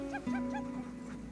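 Sled dogs whine and yip in rising, repeated cries in the snow in Norway, close and fairly clear over a low steady tone.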